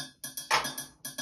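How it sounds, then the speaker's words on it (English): A synthesized clap and hi-hat from a modular sequencer rig playing alone: crisp hi-hat ticks in a regular pulse, then one broad, noisy clap burst in the middle, dry and close with nothing else underneath. "and the clap in isolation"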